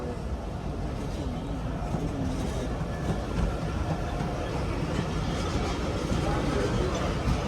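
A goods train on a Pakistani rail line between Okara and Lahore gives a steady, close rumble and rattle of wagons that holds at an even level throughout.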